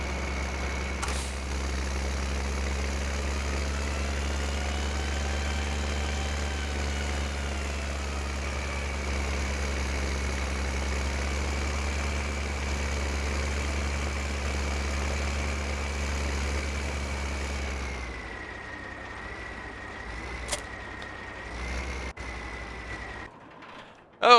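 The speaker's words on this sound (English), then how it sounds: "Tractor, I guess we'll wash the tractor too." Farming Simulator 15 tractor idling steadily in the game, a constant low engine drone with a faint whine, which then drops to a quieter, thinner hum near the end.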